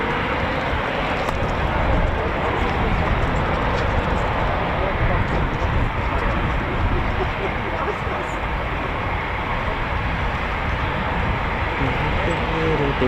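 Eurofighter Typhoon FGR4 jets taxiing at RAF Coningsby, a continuous loud, dense engine roar that stays steady throughout without a break.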